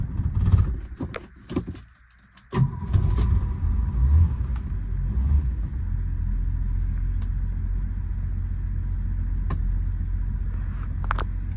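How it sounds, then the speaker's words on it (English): A four-door Fox-body Ford Mustang engine catches on a cold start after a rattle of keys and brief cranking, then settles into a steady, low idling rumble that continues without talk. "A little cold start."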